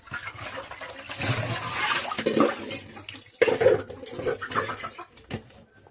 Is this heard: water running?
yes